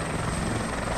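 A helicopter in a military shooter video game drones steadily with a dense rotor and engine roar, continuous and fairly loud throughout, with no talking over it.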